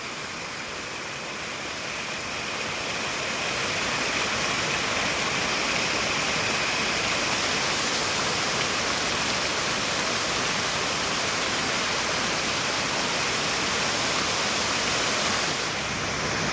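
Small waterfall rushing continuously outdoors, a steady broadband roar of falling water, close and loud with no break, no voices.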